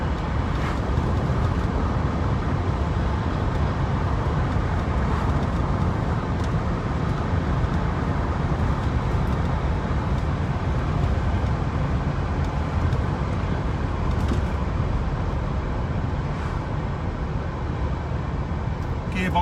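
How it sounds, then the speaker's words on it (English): A Jaguar XJS 4.0 coupe with automatic gearbox cruising at 60 mph, heard from inside as a steady low engine and road rumble with faint wind noise, unbroken throughout. "We're up to 60 miles an hour now and it's just cruising along beautifully."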